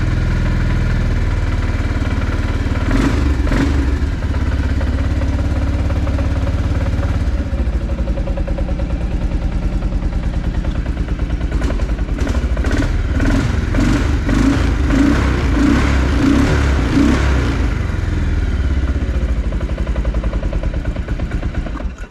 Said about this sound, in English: Let it warm up a little bit.